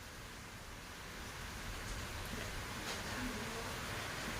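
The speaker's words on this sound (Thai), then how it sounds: "ฝนตกหนักนะครับ" Heavy rain falls steadily at a rural home in Lamphun, Thailand, where a 3.3 kW on-grid solar system is installed; it gives a dense, even hiss that holds for several seconds with no other sounds.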